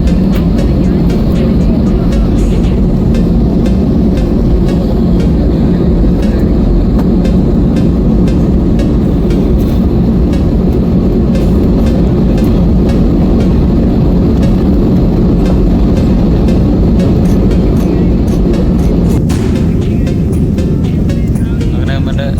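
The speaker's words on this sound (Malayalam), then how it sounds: "അങ്ങനെ നമ്മുടെ ഫ്ലൈറ്റ് പൊങ്ങാൻ പോവാണ്" A passenger jet taking off, heard from the cabin as a loud, unbroken rumble of engines and rushing air that stays level throughout, with faint muffled voices underneath.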